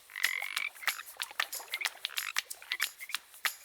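A frog croaks in a marsh with lily pads, giving a run of rapid, raspy clicking calls in uneven bursts, close and clear over a quiet background.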